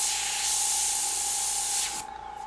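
An airbrush sprays paint in one continuous, close, hissing burst that cuts off abruptly near the end, leaving a quieter background hum.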